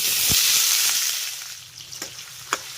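Chopped onion, two medium onions cut fairly coarse, frying in hot oil and ghee over cumin seeds, a steady close sizzle with a few sharp pops from a stirring utensil, no voices.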